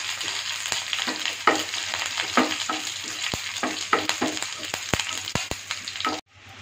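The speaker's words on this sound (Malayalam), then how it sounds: "കുറച്ച് കറിവേപ്പില ഇട്ട് കൊടുക്കാം." Curry leaves, mustard seeds and dried chilies frying in oil, a vigorous sizzle punctuated by many sharp spattering pops and crackles, close and continuous until it abruptly drops off at the end; no voices.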